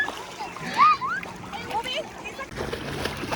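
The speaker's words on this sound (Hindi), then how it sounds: "दोनों बच्चे घुटने भर पानी में तैरने की कोशिश कर रहे हैं।" Two children splash in knee-deep water at an Australian beach, with sloshing and spray heard close by under high-pitched voices and chatter.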